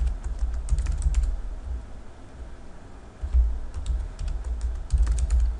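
Someone types a password on a computer keyboard in quick bursts of close, crisp clicking, broken by a brief pause before the keystrokes resume.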